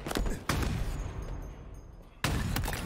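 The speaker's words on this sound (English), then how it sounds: "taking a lot of damage here from the battle rifle" Battle rifle fire in a Halo 1v1 match, with a few sharp, loud bursts of rapid shots separated by quieter gaps, heard up close with no speech.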